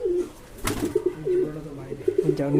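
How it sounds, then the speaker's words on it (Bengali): A local desi pigeon gives low, throaty coos in repeated rolling phrases, close and clear, while someone talks over them. "এই দেশি কবুতরটা একদমই আলাদা"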